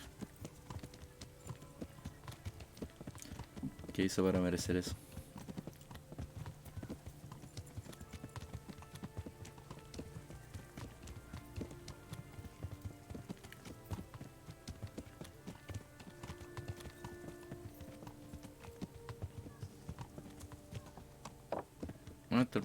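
Horse hooves clip-clop in the medieval role-playing game Kingdom Come: Deliverance, a steady galloping patter running throughout with a brief louder burst early on, while a person talks over it.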